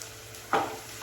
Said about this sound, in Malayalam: കുറച്ച് എണ്ണ ഒഴിച്ചു കൊടുത്തിട്ടുണ്ട് കേട്ടോ എന്നിട്ട് വെളുത്തുള്ളി ഇട്ട് കൊടുക്കാം